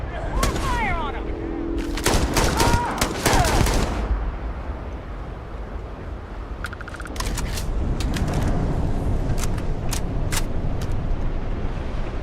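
Bursts of rapid gunfire in the Starfield video game, a cluster of sharp shots early on followed by scattered single shots over steady background rumble.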